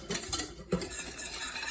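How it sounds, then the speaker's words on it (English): A whisk scrapes and clinks against a pot while stirring thick pastry cream made with eggs, giving quick metallic taps and a soft swishing wash, close by and fairly loud. "I'm using the whisk to even out the texture so that it is smooth and lump free."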